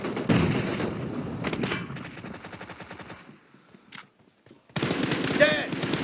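Gunfire in a shooting video game: rapid automatic bursts, loud and close, cut off by a short near-silent gap with a single crack, then heavy firing resumes; no talking heard over it.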